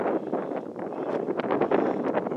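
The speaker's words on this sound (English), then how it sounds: "Boy, it's windy." Strong outdoor wind buffeting the microphone in a continuous rough rush, fluctuating in strength with no clear pauses, heard alone without talking.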